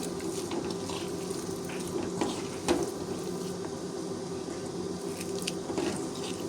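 Fish bharta with coriander leaves, onion, mashed potato and mustard oil kneaded by hand, giving a steady, close, wet squishing and squelching with small slaps, no talking.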